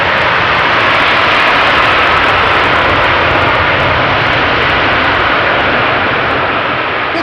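A fixed-wing airliner landing at Amsterdam Schiphol Airport, its jet engines roaring loud and close in a steady, broadband blast that holds for several seconds without any voices.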